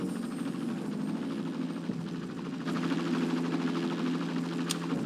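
Police helicopter from the game Police Quest: SWAT 2, a steady thudding rotor drone with engine hum held at a constant level throughout, no talking.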